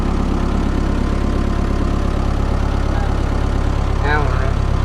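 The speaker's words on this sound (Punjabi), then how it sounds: "ਨਿਊਟਰਲ ਕਰ ਲਓ ਇਹਨੂੰ ਟਰੈਕਟਰ ਨੂੰ" A 1996 Massey Ferguson 398 tractor, a 90 hp England-built model, idles steadily up close with a constant low engine drone, while a brief higher-pitched squeal or tone rises near the end.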